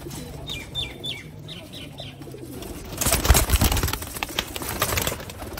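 Low cooing from Sialkoti roof pigeons, a pure-bred rooftop breed, runs under a quick series of high chirps, then gives way to a louder burst of rustling and fluttering noise near the end, with no voices.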